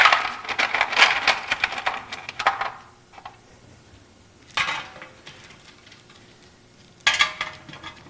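Bolts are dropped and fitted into a transmission oil pan during final assembly of a 350, producing bursts of metallic clinking and rattling: a long busy stretch at first, then two short separate clusters after quiet gaps, close and moderately loud.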